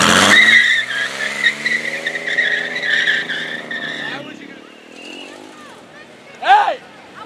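A Pontiac doing a burnout at the Woodward Dream Cruise lets out a loud, sustained tire squeal over a roaring engine for about four seconds, then it fades as the car pulls away, followed by a brief shout from the crowd.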